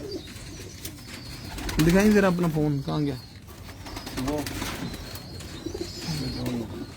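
Pigeons cooing in a Lahore pigeon keeper's loft, a few rolling, throaty coos near and clear, heard over people talking nearby.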